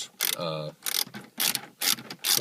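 A socket wrench with a 10mm socket ratchets in several quick clicking bursts, close and clear, while removing screws inside a Toyota Corolla.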